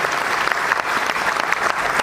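An audience at a Delhi thank-you function claps in sustained, dense applause, close and loud with no pause.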